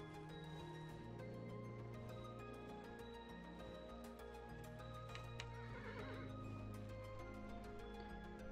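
A horse neighs and whinnies repeatedly in the video game Kingdom: New Lands, the calls rising and falling over a steady ambient game soundtrack, with faint hoof clip-clops in the mix.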